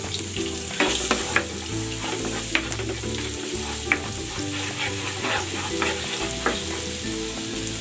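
Garlic sautés in melted butter in a pan, a steady close sizzle with scraping spatula strokes and utensil clinks spread across the clip, no talking.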